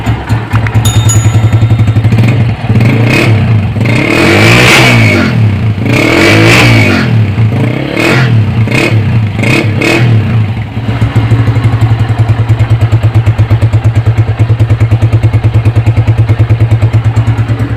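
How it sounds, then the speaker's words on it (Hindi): A 2009 Honda CG 125 motorcycle runs loud and close with a steady low engine throb through its silencer, several sharp throttle blips and revs in the first ten seconds, then settles back to an even idle. "और अभी इसी तरीके से सिलेंसर का साउंड भी चेक कर लेते हैं।"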